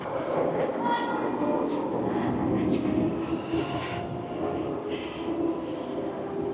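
Train at Platform 9 3/4 in Universal's Islands of Adventure Hogsmeade, heard as a steady rumbling station ambience with a broad low drone and brief brighter squeals, under crowd noise and scattered voices throughout.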